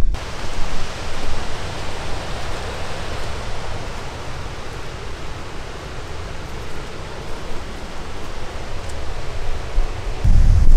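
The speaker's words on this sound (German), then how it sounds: "sind wir auf diesen Wasserfall hier gestoßen oder diese Stromschnelle. Ja, gewaltig." A powerful waterfall or river rapids beside a road in the Swedish wilderness, a loud, steady broadband roar of rushing water, continuous with no voices.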